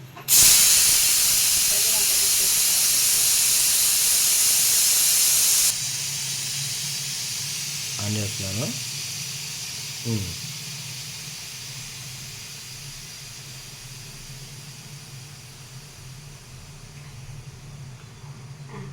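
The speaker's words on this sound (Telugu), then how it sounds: "ఆవిరి మొత్తం పోయిందండి. కుక్కర్ ఓపెన్ చేసేద్దాం." A pressure cooker of gongura and drumstick-leaf dal lets off its steam in a loud, continuous rushing hiss that starts abruptly, holds strong for several seconds, then drops to a softer lingering hiss with a couple of dull knocks, as a voice speaks briefly.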